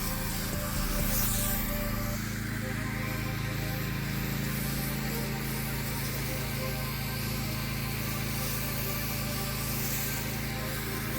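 A pressure washer sprays a driveway in hot Florida weather, giving a constant loud hiss and rushing spray over a steady engine drone that continues without pause.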